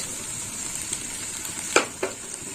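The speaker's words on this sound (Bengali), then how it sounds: "আর একটু মশলাটা কষিয়ে নেব" Spices sizzle gently in a pan for a prawn and mixed-vegetable curry, a steady soft frying hiss broken by a couple of sharp stirring clicks near the end.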